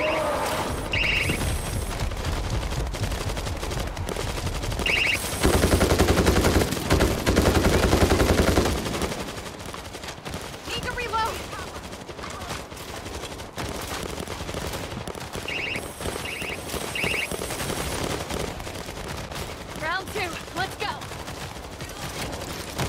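Sustained gunfire in World War Z Aftermath Horde Mode on the New York map, with dense bursts and fusillades running throughout, loudest early on, mixed with game effects.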